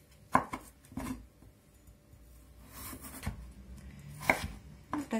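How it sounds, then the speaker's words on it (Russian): A knife cuts potatoes into sticks on a board, with about half a dozen crisp, irregularly spaced chops over quiet background clatter. "Картофель я порежу"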